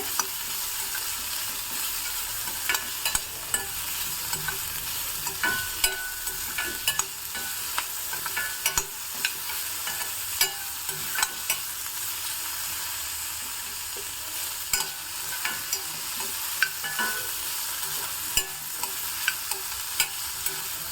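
Cucumber frying in a pan for a Havyaka Brahmin crunchy dish: a dense, continuous sizzle with frequent small ticks and scrapes of a spoon, steady and close throughout, no speech.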